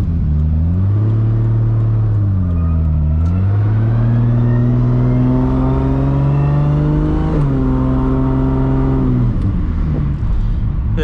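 A 1000+ hp Toyota Supra MK4 drives and accelerates, its engine loud and close, rising in pitch through two gear pulls, dipping at each shift, then settling into a steady drone before easing off.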